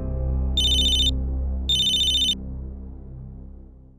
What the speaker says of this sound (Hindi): किसका फोन आ गया है